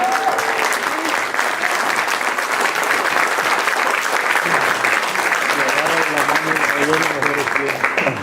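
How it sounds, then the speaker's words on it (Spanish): A church congregation applauds loudly and continuously, many hands clapping together while voices call out and sing over the ovation near the end. "Ponte de pie y dale un aplauso al Cristo de la gloria."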